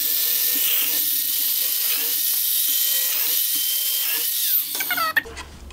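A biscuit joiner cuts a slot into the edge of a wooden board seven centimetres from the end, its loud, steady high-pitched whine running for about five seconds before spinning down with a few knocks.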